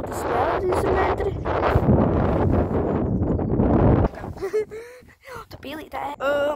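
Strong wind buffets a microphone on a bridge, a loud, rough, continuous rumble for several seconds, then drops away as voices and other sounds take over.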